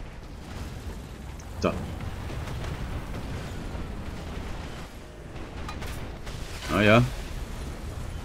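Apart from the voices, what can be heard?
artillery explosions in the video game War Thunder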